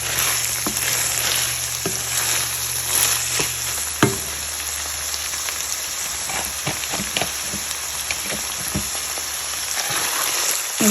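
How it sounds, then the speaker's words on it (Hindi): Minced meat (qeema) fries in a pan just after vinegar is added, giving a steady, close sizzle with scattered pops and a few soft stirring knocks, no voices. "सिरका डालने के बाद इसको हम थोड़ा सा 2 से 3 मिनट और भूनेंगे"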